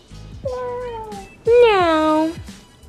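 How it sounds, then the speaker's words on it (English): A cat meows twice in a home setting with a toddler present, a shorter rising-falling call followed by a louder, longer drawn-out meow, both close and clear. "What the cat say? Look. Look at kitty."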